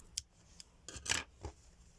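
Scissors snip off a yarn end on a crocheted stitch marker holder, making a few quiet, close, crisp clicks and cuts spread over two seconds against a near-silent background.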